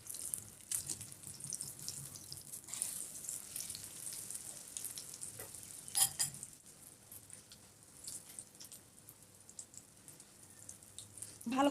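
An egg paratha fries in a pan with a soft, steady sizzle, fairly quiet throughout, broken by a few faint clicks and taps of a utensil.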